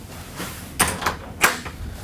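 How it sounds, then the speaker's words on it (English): An office door bumping and thudding in short knocks, two louder hits close together followed by a softer tap, near and fairly quiet in a still room. "this door never closes to my office"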